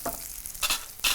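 Garlic and onion sautéing in a pan, a soft close sizzle punctuated by two brief stirring bursts, fairly quiet and without talk.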